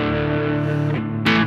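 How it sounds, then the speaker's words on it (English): Finger-picked blues phrase on a distorted electric guitar, with sustained, ringing notes that fade before a fresh, brighter plucked attack near the end; the instrument plays alone and close. "And then the distortion really comes out very nicely."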